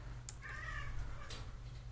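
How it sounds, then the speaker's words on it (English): A pet cat meows indoors in a house, a couple of short mid-pitched calls over a steady low hum, close by and fairly quiet with no talking. "The cat's having a fit."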